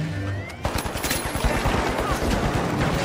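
Rapid bursts of video game gunfire crackle through a team shooter match, a dense run of shots starting after a brief lull and continuing steadily to the end, loud and close.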